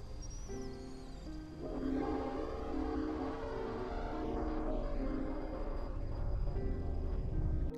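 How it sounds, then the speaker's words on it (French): Ghost train locomotive in Red Dead Redemption 2, a deep, dull rumble with low droning horn-like tones that swell steadily as it approaches, dense and continuous for several seconds with no voices. "on entend un son de locomotive et un bruit de train lorsqu'il s'approche."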